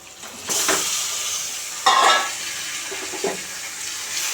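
Washed chicken pieces drop into cooking masala in a home kitchen and get stirred, a wet sizzling rush with scraping stirs and a louder splash-like burst midway.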